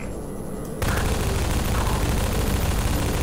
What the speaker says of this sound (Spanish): Escucho que disparan, pero no los veo